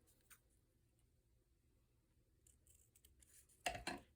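Scissors trim a paper frame in a quiet room, with faint small snips and paper rustles that end in a louder close burst of cutting and handling.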